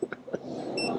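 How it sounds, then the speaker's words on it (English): A few soft noises are followed by a restaurant pager going off in a Malaysian restaurant in Vancouver, sounding high electronic beeps near the end against a murmuring room. "We are being beeped."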